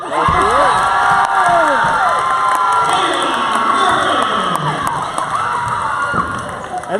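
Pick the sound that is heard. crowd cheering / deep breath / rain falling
crowd cheering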